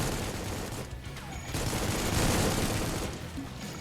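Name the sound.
gunfire in Supplice video game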